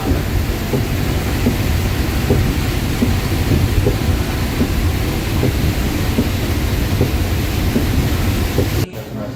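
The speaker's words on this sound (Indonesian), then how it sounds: "Madinah hujan besar." Heavy rain pouring down in Medina, a loud, dense, continuous rush of falling water with a low rumbling undertone, steady throughout and cutting off abruptly near the end.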